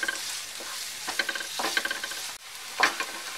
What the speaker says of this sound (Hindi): इसमें हम 1/2 अनियन डाल देंगे, 1/2 हम फिलिंग के लिए बचा देंगे, और मीडियम फ्लेम पे इसे सॉटे कर लेंगे 2 मिनट